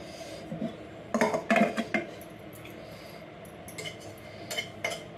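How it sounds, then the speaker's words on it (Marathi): Dry fruits roasting in a pan, with a run of clinking metallic scrapes and taps from stirring near the two-second mark, then scattered lighter clinks over a low steady background. "आता हे ड्रायफ्रूट थोडे गरम याच्यावरती भाजून घेते"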